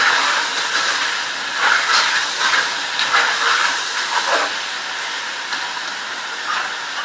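Ginger-garlic paste frying in a pan for chicken do pyaza hisses with a strong, steady sizzle that swells in short bursts, close by and with no talk.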